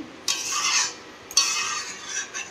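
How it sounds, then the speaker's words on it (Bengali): A spoon twice stirs a fish curry with okra and fish roe in a pot, two close scraping, bubbling sweeps with a softer third one at the end, no talking. "এবার একটু নাড়িয়ে দেবো"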